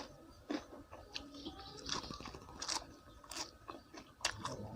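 Crispy pork eaten up close: repeated crunchy bites and wet chewing in an irregular rhythm, fairly quiet, with no talk.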